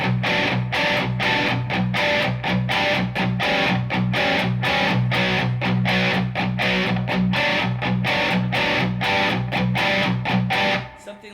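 Peavey Invective MH amp playing a tight, distorted electric guitar tone with lower gain and added reverb, rhythmic chugging chords played loud and close throughout, no talking.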